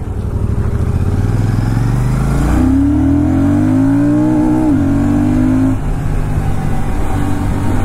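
A 2024 Royal Enfield Shotgun 650 motorcycle accelerating, its loud parallel-twin engine note rising in pitch through the revs, then easing off and settling to a steady run.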